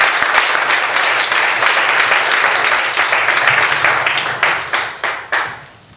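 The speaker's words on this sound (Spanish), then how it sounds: "Den un aplauso al Señor." A church congregation applauds during a worship service, loud sustained clapping from many hands close by, breaking toward the end into a few separate bursts as it dies away.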